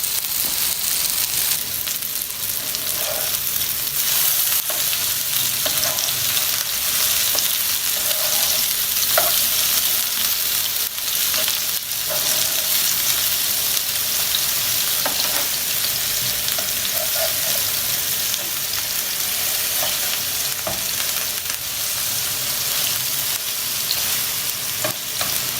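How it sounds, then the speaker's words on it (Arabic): Dough frying in hot oil and being flipped, a loud continuous close sizzle and crackle throughout with occasional stirring scrapes, no talking. "هقلبها دلوقتي بقى ونشوف ايه اتحمرت ولا ايه اللي حصل"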